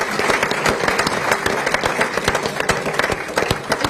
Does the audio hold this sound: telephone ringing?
no